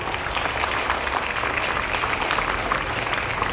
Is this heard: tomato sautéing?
no